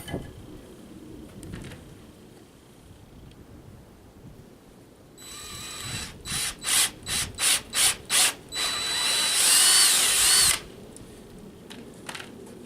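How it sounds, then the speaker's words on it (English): A power drill whirs in several short bursts, then runs in one longer high-pitched grind, cross drilling through a wooden bucksaw upright, close and loud. "On the other side, I'm only going to cross drill one hole."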